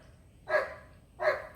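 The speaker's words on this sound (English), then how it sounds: "Max was barking so loud I couldn't hear myself talk" A dog barks twice, loud and close, each bark short and evenly spaced, with a faint low hum underneath.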